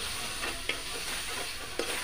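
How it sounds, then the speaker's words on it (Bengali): Spices sizzle in a pan while being stirred, a soft continuous frying hiss with two brief clicks of the spoon, close and quiet, no speech. "মশলাগুলো সুন্দরভাবে আমি নেড়ে চেড়ে ভেজে নিচ্ছি।"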